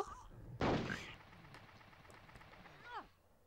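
One loud gunshot blast in the video game Hogs of War, followed by a decaying rumble and a brief descending whistle near the end, set against a quiet background.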